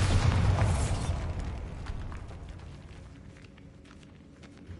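Bombarda spell blast in Hogwarts Legacy, a loud booming burst at the start that rolls off into a long fading rumble with scattered debris clatter.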